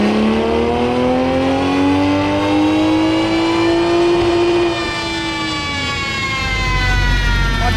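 A car with a stage 1 tune, downpipe and intake, running race gas, revs hard on a dyno with slight wheel spin. The engine climbs in one loud, sustained pull, then its pitch drops near the end, with no talking.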